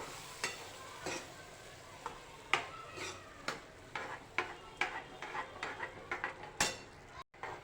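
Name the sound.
stirring mashed green peas into ragda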